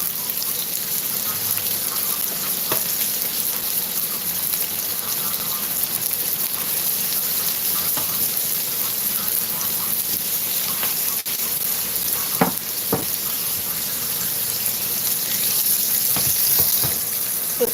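Hamburger patties sizzle on a grill with a constant hissing crackle and occasional pops, steady and fairly close, without speech over it.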